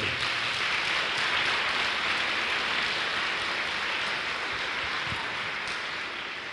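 Loud, sustained applause from a large crowd, steady dense clapping throughout that tapers slightly toward the end.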